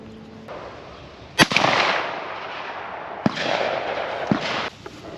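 A shotgun fires a 3-inch shell with a 1.25-ounce BB waterfowl load, heard as a sharp, loud report that decays into a broad rumble, followed by a few smaller cracks and impacts and a lingering echo.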